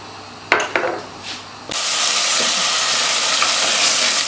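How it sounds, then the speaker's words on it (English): A few clinks and scrapes, then a loud, steady sizzle as chicken masala curry sauce is stir-fried in a hot pan, continuing close up without talking. "we're stir frying the sauce for a good few minutes"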